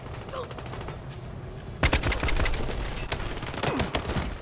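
Rapid bursts of video game gunfire erupt after a short quiet stretch, loud and dense, with shots stacking into a clattering fusillade that keeps firing to the end.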